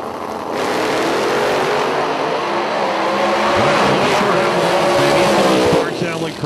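A drag racing car with a 632 cubic inch engine and nitrous roars loudly and continuously at a street drag event, a sustained heavy engine note with a rising pitch sweep near the end, with a commentator talking over it.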